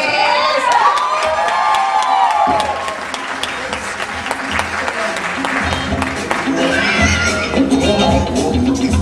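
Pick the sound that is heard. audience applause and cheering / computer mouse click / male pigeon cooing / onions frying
audience applause and cheering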